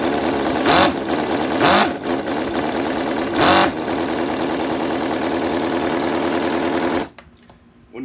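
Cison V8 model engine idling just after a cold start with a lumpy camshaft, a fast, steady buzzing run with a few louder surges, then abruptly cut off near the end.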